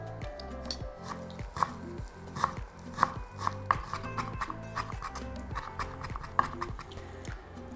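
Garlic, parsley and dill are chopped with a knife. The quiet blade strikes on the board fall in a quick, fairly regular rhythm.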